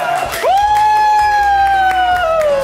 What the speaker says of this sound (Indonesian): Kita kasih tepuk tangan sekali lagi.